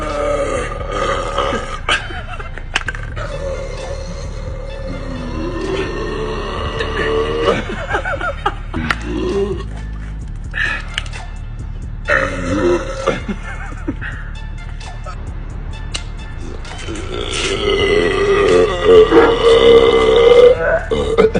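A string of very loud, drawn-out burps, one after another, with people talking, chuckling and laughing around them and the loudest belches near the end.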